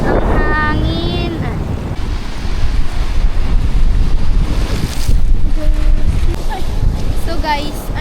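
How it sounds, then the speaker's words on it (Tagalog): Strong wind at Magra Beach Resort roars across the microphone with surf washing in the background, a constant loud rush, while people talk and a voice rises briefly at the start and end. "Sarap ang hangin."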